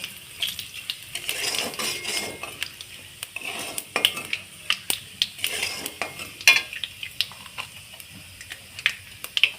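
Whole spices (cloves, dried red chillies and small cardamom) fried in oil in a pan as a tempering for a Bengali banana-flower and prawn dish, with light sizzling under repeated sharp spoon scrapes and clinks against the pan.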